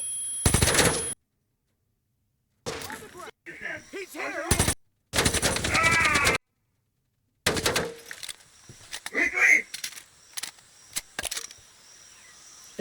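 Bursts of gunfire in a jungle survival shooter video game, rapid automatic volleys and single shots separated by silent gaps, with some game speech in between.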